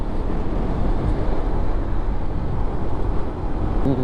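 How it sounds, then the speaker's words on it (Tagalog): A 2025 Honda ADV 160 scooter climbs uphill during break-in, its engine drone blended with heavy wind rush. The sound is loud and continuous throughout, with no talk. "break in na break in na talaga motor dito"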